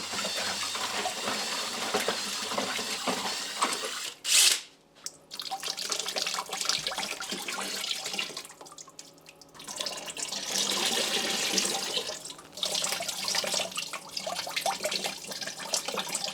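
Ceramic glaze dipped and poured over a two-foot ceramic mushroom sculpture, a steady close-up stream of splashing, trickling liquid with brief pauses and a sharper splash partway through.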